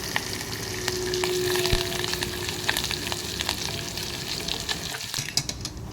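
Curry leaves and asafoetida frying in hot oil as a tempering for moong dal, a continuous crackling sizzle with sharp pops and spatters scattered throughout, close and fairly quiet, with no talking.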